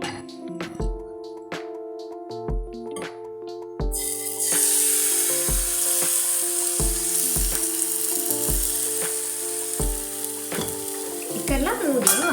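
Batter dropped by ladle into hot oil for a quick snack, hissing into a loud, steady sizzle that swells midway and holds, with a regular series of low knocks and clinks from utensils throughout; no voices.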